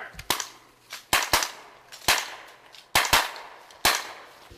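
Gunfire during a joint military combat exercise in the Yukon: a string of sharp, loud single shots in irregular bursts of two or three, echoing briefly in the open, with no talk between them.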